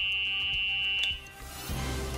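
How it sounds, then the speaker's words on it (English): A golf car's reverse warning alarm gives a steady, high-pitched electronic tone with faint pulsing, then cuts off about halfway through, leaving low background rumble. "If the switch is in the reverse position, an alarm will sound"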